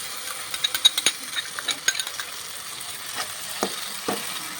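Ground tomato paste fries in a pan for Kerala-style fish biryani, a soft steady sizzle under quick clustered taps and scrapes of a stirring spoon that thin out toward the end.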